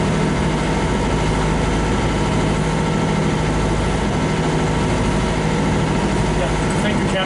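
A sailing vessel's engine runs steadily, a constant low droning rumble with vibration that stays level and close throughout, with no break in the sound.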